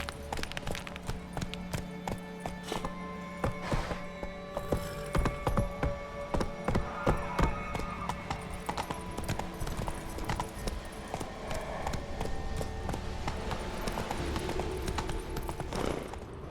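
Horse hooves clip-clop at a steady walking pace in The Witcher 3 video game, a rhythmic run of clops over a bed of game ambience and background music.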